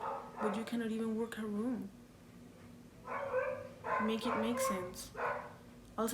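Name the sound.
dogs barking in the background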